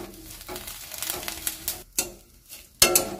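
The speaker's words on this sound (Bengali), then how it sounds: "খুন্তির সাহায্যে আমি বেশ নেড়ে চেড়ে নিচ্ছি" A spatula tosses neem leaves dry-roasting in a pan without oil, producing rapid rustling scrapes and crackly sizzle, with a few sharper knocks against the pan, close up and without voices.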